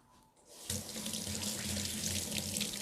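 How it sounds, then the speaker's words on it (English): A sink tap turns on and runs steadily for hands being washed, the water stream starting abruptly after a brief quiet moment and continuing as a close, even rush. "Let me wash my hands and get a fork."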